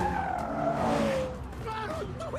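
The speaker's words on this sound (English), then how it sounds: "The car's driving by itself." A car roars and skids through a film chase scene, the engine sweeping and tires hissing under music and shouted voices, dense and close for a couple of seconds.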